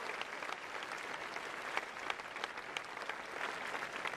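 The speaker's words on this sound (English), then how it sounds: "Ladies and gentlemen, please keep the applause going for Nick Kyrgios and Viktor Troicki" Steady crowd applause fills an outdoor tennis venue after Nick Kyrgios beats Viktor Troicki in a match tiebreak, a dense continuous clapping that holds at an even level throughout.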